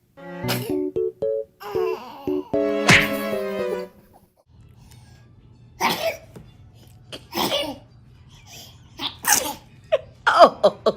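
A baby sneezes at a birthday celebration, a short sharp burst, followed by smaller sneezy huffs and giggles near the microphone, with adults talking softly around it.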